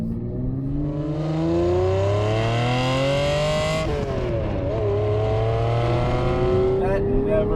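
A Ferrari Testarossa's 4.9-litre flat-12 revs hard from inside the car, the pitch climbing steadily, dropping at a gear change, then rising again, loud and continuous throughout.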